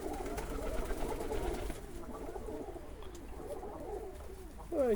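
Fancy pigeons of the Polish Widyn, Hamburg mewka and blawindry breeds coo softly in an aviary in low, repeated throaty calls, a steady murmur close by, with a brief louder coo near the end.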